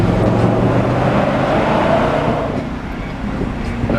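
A car engine revving up to 3,500 rpm while still cold, a steady close low rumble that holds loud and then eases slightly toward the end.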